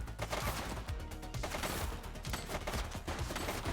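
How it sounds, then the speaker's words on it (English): Gunfire from a suspect shooting in the police video game The Precinct, a dense, fairly faint clatter of repeated shots running continuously throughout. "She's shooting!"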